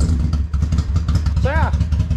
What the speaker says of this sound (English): She's a 2006 Triumph Speedmaster with an 865cc twin-cylinder engine.